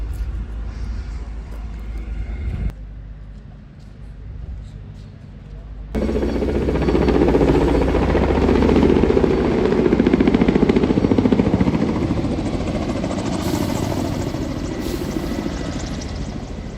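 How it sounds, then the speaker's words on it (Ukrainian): A helicopter flies over Kyiv's Kurenivka district amid smoke after a drone attack. Its rotor rumble is loud and steady, drops briefly, then swells and stays strong, with no talk. "що вертоліт хоробро залітає в дим"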